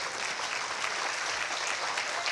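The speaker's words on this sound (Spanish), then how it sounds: "Denle un aplauso al Señor" A church congregation applauds during a Spanish-language service, a steady, full wash of clapping from many hands that holds evenly from start to finish.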